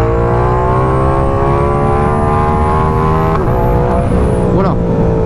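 Yamaha R7 motorcycle with the MT-07 parallel-twin engine pulling hard in second gear, a loud rising engine note that climbs steadily, then briefly dips as a gear shift hits before climbing again, under wind noise.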